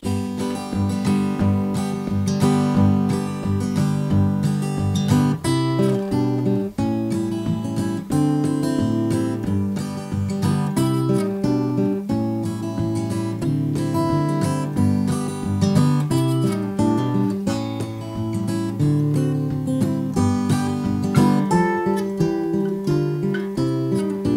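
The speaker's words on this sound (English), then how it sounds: "You can pick up the acoustic guitar and just start doing this" Steady fingerstyle acoustic guitar strumming, with a busy root-and-fifth bass-and-chord pattern and a four-on-the-floor foot tap driving the pulse throughout.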